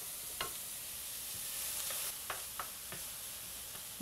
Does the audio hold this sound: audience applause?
no